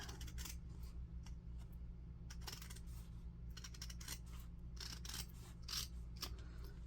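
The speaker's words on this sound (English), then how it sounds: "we're going to just flip it over and we're going to cut this along the card" Scissors snip through old jeans fabric along a card edge in a series of short crisp cuts, close up over a steady low background hum, with no talk.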